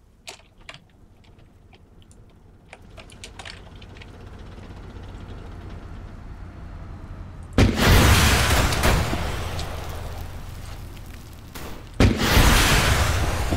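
A bomb detonates in a military combat game, a sudden loud, deep blast after a quiet stretch of faint ambience, followed a few seconds later by a second heavy explosion, both rumbling out with a long tail.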